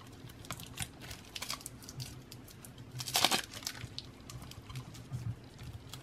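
A tarot card deck is unwrapped with soft crinkling and rustling of packaging and cards throughout, a louder tearing crackle about halfway in, close and fairly quiet with no talking.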